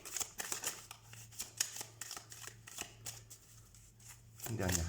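Oracle cards being shuffled in rapid riffling bursts, a steady run of crisp papery flutters close up, with a low steady hum underneath and a voice speaking at the end.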